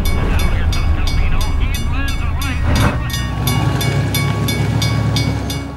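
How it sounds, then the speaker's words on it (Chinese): A train approaches on railway tracks in an action film scene, its wheels clattering in a steady rhythmic beat over a loud, low rumble, with music and dialogue layered on top. "百无聊赖的道尔顿停到了铁轨上，准备迎接命运的火车"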